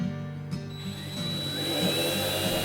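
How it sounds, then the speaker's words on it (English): A power drill whines and grinds close up, its pitch rising as the bit bites into a new Jeep's metal body, continuous for a few seconds with no talking. "Drilling holes in the new Jeep."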